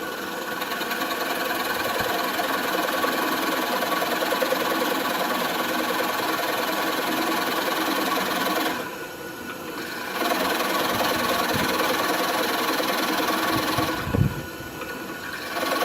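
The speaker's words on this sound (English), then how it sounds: "I set up the drill press. I got a spade bit here" A steady mechanical whir of a drill press with a spade bit cutting into pallet wood, loud and continuous, with two brief dips where the bit eases off before resuming.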